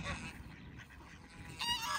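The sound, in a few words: geese honking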